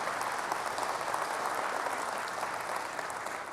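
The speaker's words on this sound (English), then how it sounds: "please, round of applause for the great work there" Steady, dense audience applause at Sony's E3 2006 press conference, a broad continuous wash of clapping that holds at an even level across the clip and fades only slightly at the end.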